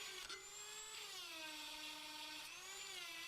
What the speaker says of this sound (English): I always find that a Dremel tool really gets into a lot of those